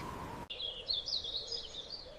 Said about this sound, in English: I listen to the birds singing outside.